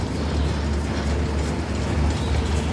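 Engine machinery rumbles in the video game Uncharted: The Lost Legacy, a dense, continuous low mechanical drone with grinding, ratcheting texture, loud and steady throughout with no speech.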